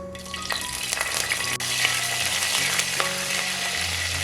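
Whole spices, a small bay leaf and curry leaves frying in hot oil for a Kerala-style chicken stew, a steady close sizzle with occasional crackles and light stirring.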